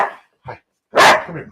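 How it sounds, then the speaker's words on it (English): Pet dogs bark a few short times up close, one louder burst near the end, while a person greets and calls them. "the dogs are here. All the puppies are here."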